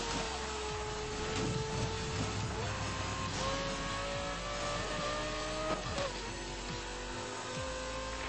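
A car engine in Need for Speed: Most Wanted drones and revs steadily, its pitch rising and shifting with gear changes, loud and continuous throughout with no talk over it.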